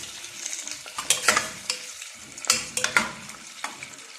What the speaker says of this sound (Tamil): அதுக்கப்புறமா கருவேப்பிலை போட்டுடலாம். போட்டு நல்லா வதக்கிக்கோங்க.